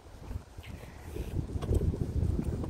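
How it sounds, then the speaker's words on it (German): Strong wind buffets the microphone in a steady low rumble, swelling louder toward the end, with gusty roaring and no voices. "Also, es ist wirklich sehr windig."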